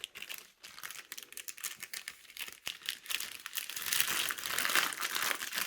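Original packaging around an EK Quantum water cooling block for an RTG 3080 Strix graphics card crinkles and rustles in dense, irregular bursts up close, growing louder and busier toward the end.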